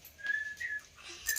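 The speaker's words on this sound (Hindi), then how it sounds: "तू गाना सीटी मारुचु" A person whistles a short tune, a faint, thin melody of a few sustained and sliding notes with no talking.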